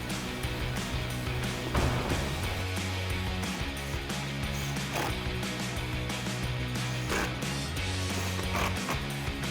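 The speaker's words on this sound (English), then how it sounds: "So we've got our 7mm socket, we'll get those in." A 7mm socket on a ratchet drives the headlight mounting screws on a 2005-2013 Corvette while fitting Morimoto XB LED headlights, giving a close, continuous rapid clicking and whirring with no talk.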